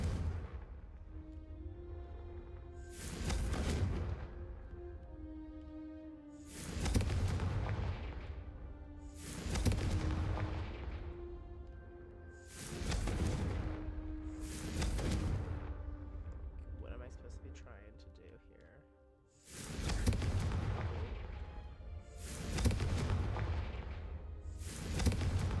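Repeated Confringo fire spell blasts in the Hogwarts Legacy video game, each a heavy booming burst that fades out, about seven in a steady rhythm, with game music and voices underneath.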